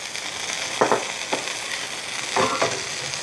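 King oyster mushrooms searing in a hot pan, a constant close sizzle with a few quick scraping stir strokes standing out over it.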